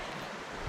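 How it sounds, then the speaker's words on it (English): Running water of a creek along a nature trail, a brief steady rushing wash heard outdoors at moderate level with no voices over it. "God, I love the sound of running water"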